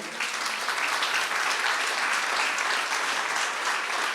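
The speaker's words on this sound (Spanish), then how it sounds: "¿Quieres darle ese aplauso al Señor?" A church congregation applauds steadily and continuously for the Lord, a dense even wash of many hands clapping together that holds at a constant level throughout, with no voices breaking through.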